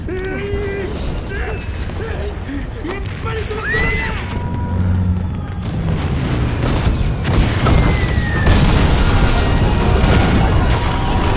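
Deep booms and rumbling blasts of American ships bombarding Kashima Island build up over whistling streaks, growing louder and denser toward the end like an ongoing bombardment.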